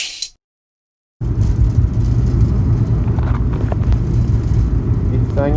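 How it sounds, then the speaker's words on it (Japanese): Steady low road rumble inside a moving Suzuki Every kei van fitted with curtain tension rods, loud and continuous after a brief silence, with a few faint clicks and rattles riding over the drone. "実際に走行してみると、サイドの突っ張り棒のバネの音が少し気になります。"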